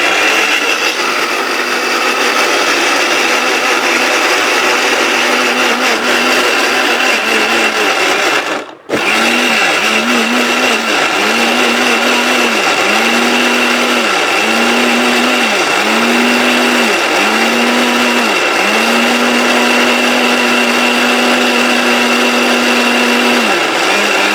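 A multi cooker's grinder blends ginger and garlic into paste with a loud steady whirring motor that cuts out briefly, then restarts with a pulsing, rhythmically dipping drone.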